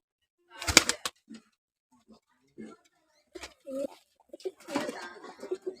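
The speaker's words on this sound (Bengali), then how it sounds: "এই পাঞ্জা পায়রা কিন্তু সব শর্ট সাইজের পায়রা" Panja pigeons, a short-sized breed, coo softly in a loft, with a few low murmuring coos spread over several seconds between bursts of nearby talk and handling noise.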